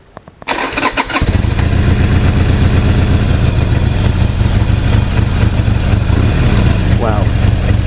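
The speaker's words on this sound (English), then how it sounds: "The sound this bike makes, absolutely awesome." A Harley-Davidson XL883C motorcycle with stock exhaust pipes fires up after a brief quiet moment, then settles into a loud, steady, throbbing idle close by that runs unbroken to the end.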